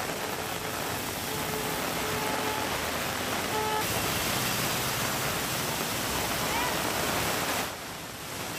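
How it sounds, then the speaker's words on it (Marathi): Heavy monsoon rain pours down steadily in Kalyan-Dombivli, a dense, even roar with a waterlogged street below, continuous and loud until it eases slightly near the end. "कल्याण डोंबिवलीत सध्या जोरदार पाऊस सुरू आहे।"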